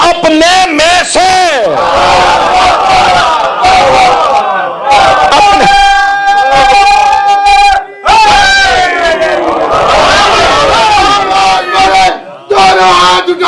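A large crowd chants slogans in unison with both hands raised and palms open, loud and close, in repeated surging bursts with strong, shouted voices.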